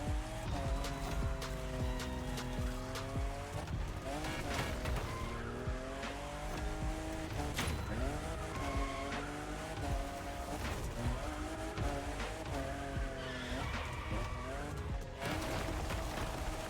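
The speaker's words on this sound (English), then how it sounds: "I'm just in love with what Toyota did with this new Supra" Fifth-generation Toyota Supra roaring through races in The Crew Motorfest on O'ahu, engine revving up and down through gear changes with tire squeals, loud and continuous for the whole stretch.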